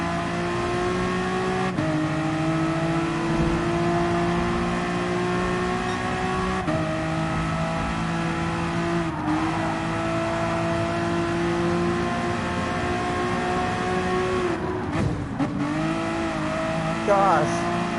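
Honda NSX Gr.4 race car in Gran Turismo Sport on the Tokyo Expressway, with a steady high engine drone, gear changes and brief tyre noise throughout.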